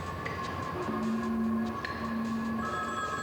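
A telephone rings inside a phone booth, a short, moderately faint electronic ring heard over a constant background hum with no voices.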